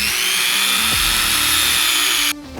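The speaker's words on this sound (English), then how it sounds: "take our Woodstarter belt sander and round them corners off a little bit" A Woodstarter belt sander rounds the corners of a scrap wood piece cut to 7.5 inches, a loud steady high whine with the belt grinding against the wood, cutting down sharply near the end.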